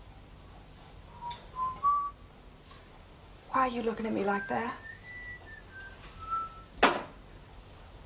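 A man whistles a short rising tune, with brief warbling notes before and after a woman's spoken line, in a 1976 stage-drama film of Cat on a Hot Tin Roof; the whistling is clear and fairly close.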